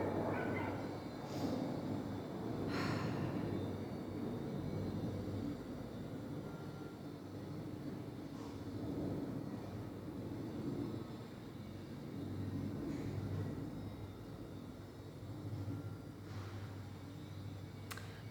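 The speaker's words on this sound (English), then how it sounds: "there's a plane going by just as we were talking about adventure" A fixed-wing airplane passes overhead outdoors as a continuous low, distant roar that holds steady and fades slightly, faint against the background with no talking.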